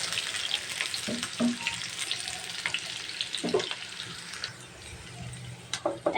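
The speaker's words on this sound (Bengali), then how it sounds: "আমি 1 কাপের মতো পেঁয়াজের কুচি দিয়েছি, এটা কিন্তু আমি হালকা একটু ভেজে নিচ্ছি।" About a cup of chopped onion fries lightly in a pan, sizzling steadily up close with a few scrapes and clinks from stirring, and no talk.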